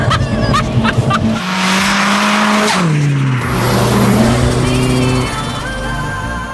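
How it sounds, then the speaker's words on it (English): Ford Escort Mk6 fitted with a 360 bhp Mk1 Focus RS engine accelerates hard, its engine note climbing steeply through gears with shifts and a loud, close rasping roar throughout. "this is powered by a 360 brake horsepower Mk1 Focus Rs engine"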